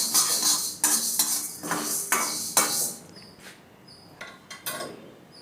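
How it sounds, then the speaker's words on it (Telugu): Urad dal and other lentils roasting in a pan, stirred with a metal spoon that gives repeated scraping strokes and clinks against the pan, the first several loud and regular, then quieter sporadic taps. "కాస్త బ్రౌన్ కలర్ వచ్చినంత వరకు పప్పులన్నిటినీ బాగా రోస్ట్ చేసుకుని"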